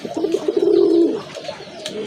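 A gorra or golla pigeon at a breeder's farm gives one rolling, throaty coo lasting about a second, close and clear, followed by quieter murmurs.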